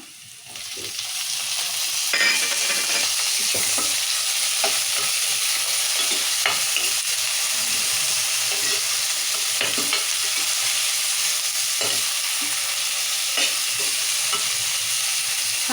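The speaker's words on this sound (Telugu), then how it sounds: "ఇవి నూనెలో వేయించుకుందాం మంచిగా ఇక ఉల్లిగడలు మిరపకాయలు ఇట్లా ఎర్రగా వేయించుకోవాలి" Onions, green chilies and tomato frying in hot oil, a loud continuous sizzle with repeated stirring scrapes and clinks of a spatula against the pan.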